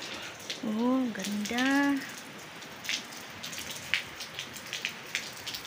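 Rain falling in Cyprus, a soft patter of drops on surfaces with scattered louder taps, while someone speaks briefly at the start.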